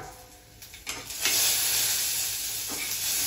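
Food fries in a pan on a stove, starting with faint clinks and stirring, then swelling into a steady, loud sizzling hiss that carries on alone.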